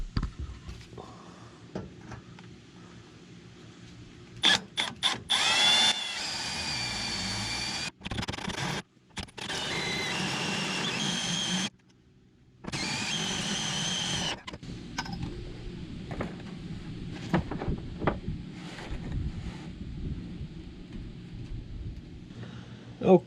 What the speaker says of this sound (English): This angle iron's a little thick, so it hardly wants to fit in there. It's kind of tough drilling